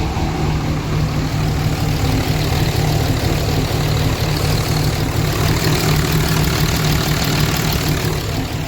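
A diesel truck engine with worn injectors idles steadily and close by, producing a continuous heavy, rumbling clatter with no talk over it.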